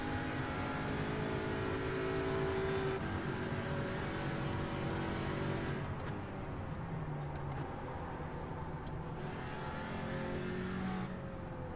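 Audi RS3 race car engine in iRacing at Suzuka, a steady sustained drone with shifting harmonic pitch as it accelerates and holds gears through corners, continuous and close throughout with no talk.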